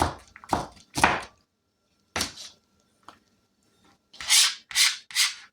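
A knife chops an onion finely on a board, giving bursts of crisp cutting strokes in small clusters separated by short pauses, close and clear with no talking.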